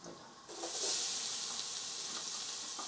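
Onions frying with ginger and peppercorns in a pan for an Indian restaurant base gravy, a steady close sizzle that jumps up loudly after half a second and then holds evenly, with no voices.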